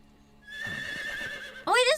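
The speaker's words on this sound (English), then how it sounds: "Oh, it is a horse." A horse whinnies in the video game Metal Gear Solid Delta: Snake Eater, with a long tonal neigh over a low steady background, ending in a sharp, wavering high burst.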